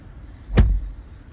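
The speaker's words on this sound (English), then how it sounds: "Sound of the door is pretty nice." A single solid car door thud from a 2021 Honda Passport EX-L AWD, close and fairly loud, with a short low rumble, then quiet.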